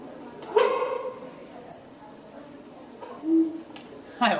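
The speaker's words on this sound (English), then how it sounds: "Barking dogs, phosphorus again. White phosphorus." White phosphorus burns in a barking dog chemical reaction, a short sharp bark-like whoop followed by a second quieter whoop, with faint voices nearby.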